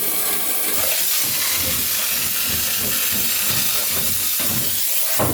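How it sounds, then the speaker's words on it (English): Loud, continuous hiss of a wallpaper steamer close by, steady throughout with faint rumbling underneath and no voices. "if we apply the steamer, you'll see just how quick this works."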